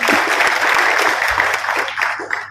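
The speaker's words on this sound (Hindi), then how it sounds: "और एक धन्यवाद उतना ही बनता है जोरदार तालियां।" Loud, steady applause from an audience at the Shaan-e-Mewat cultural event in Mewat, with dense, continuous clapping that holds for the whole stretch and has no voices over it.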